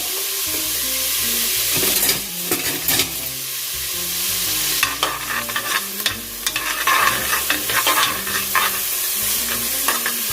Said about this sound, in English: Add some oil in the bottom of my stock pot. We're just gonna let that saute for a little bit.